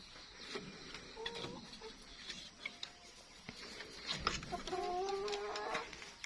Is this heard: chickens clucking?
yes